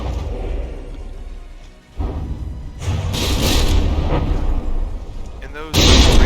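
Ram mortar volleys firing in the From the Depths naval battle game, a dense rumble of booms and whooshing launches building in bursts under steady commentary.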